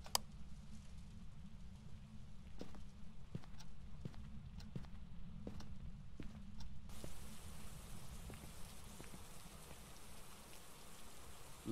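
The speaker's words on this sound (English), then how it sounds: "Look at how this candle stays alight in the rain." Rain in the horror video game Phasmophobia falls as a steady, faint patter with scattered sharper drops and taps, heard alone without talk.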